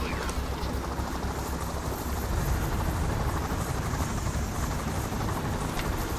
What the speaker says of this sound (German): Helicopter insertion!